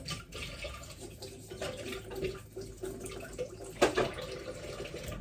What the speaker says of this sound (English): Oh, I want to wash that knife because I'm going to use that one.